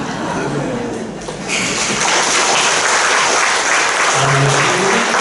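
Loud, dense applause from a seminar audience in an alumni hall, briefly dipping after the first second and then swelling into full, sustained clapping close to the microphone.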